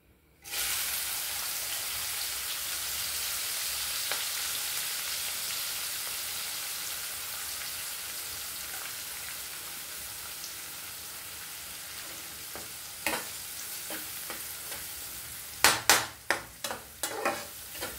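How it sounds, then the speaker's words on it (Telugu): Onion pieces and green chilies hit hot oil in a pan with a sudden loud sizzle that hisses steadily and slowly softens, followed by several sharp stirring clinks near the end. "ఇప్పుడు మనం ఈ ఉల్లిపాయ ముక్కలు 2 బారు కమ్మటి పచ్చిమిరపకాయలు వేసానండి నేను."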